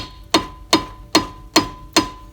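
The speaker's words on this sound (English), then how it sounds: "we'll just tap the end of the screwdriver with the hammer" Five sharp metallic hammer taps on the end of a screwdriver to break rust loose during front brake pad and rotor work on a 2005 Honda Pilot, evenly spaced about once every half second, close and fairly loud with no talking.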